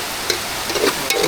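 Oil drizzled over onions sizzling in a pan while crab curry is cooked outdoors in a jungle, a soft continuous fry with a few light stirring scrapes and no talk.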